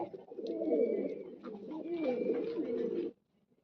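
Close, rolling coos from racing pigeons run for about three seconds in a continuous throaty warble, then stop abruptly into near silence.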